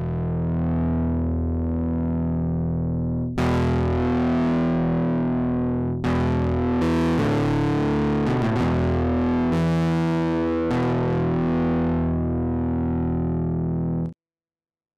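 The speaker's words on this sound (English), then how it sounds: "For the low end, the guitar or bass sound, I'll add distortion. Some nice grind for big chords or pedal tones." A distorted synthesizer bass tone with heavy grinding harmonics is built in iZotope Iris 2, played as several sustained chords and pedal notes that change every few seconds before cutting off abruptly.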